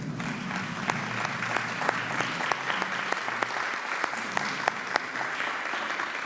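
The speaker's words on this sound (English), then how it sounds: "we will give you an honor by giving you applause" Audience at a Rotary club weekly meeting applauds visiting guests and Rotarians, a steady wash of many hands clapping with sharper individual claps popping out, fairly close and continuous throughout.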